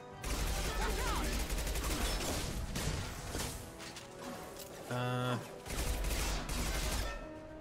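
Rapid gunfire in the video game Mass Effect 3, loud bursts of automatic shots and heavy impacts in dense clusters, broken by short pauses and a brief voice line.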